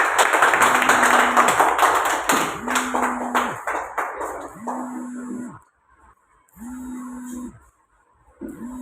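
Audience applause greeting a guest invited onto the stage at an event, fairly loud at first, then thinning and fading out with gaps of near silence, a repeating low tonal hum running through.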